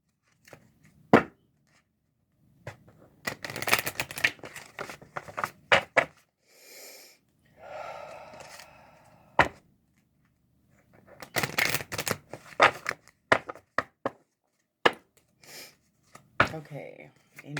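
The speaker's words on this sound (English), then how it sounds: "Just going to give these cards a couple shuffles." A deck of cards is shuffled several times in bursts of quick riffling and snapping, with pauses between them and soft handling sounds in the gaps.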